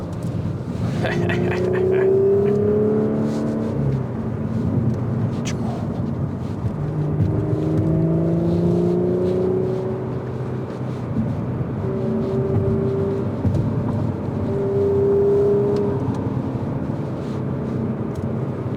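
A 2022 Audi S4 drones steadily while driving through a mountain pass, engine note rising and falling through several gear changes from inside the cabin, with someone talking over it.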